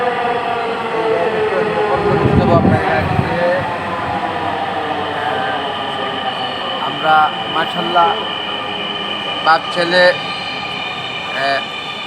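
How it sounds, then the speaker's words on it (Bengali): A metro rail train pulls into a station on the Uttara–Pallabi line with a loud rumble and a sustained rising tonal whine, while people talk close by over the noise. "গাড়ি চলে আসছে। আমরা এই গাড়িটিতে যাব মেট্রো রেল।"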